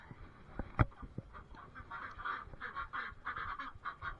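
Ducks quack in a farmyard alongside goats, a rapid, continuous chatter of nasal calls at close range, with a sharp clunk early on and soft handling noises underneath.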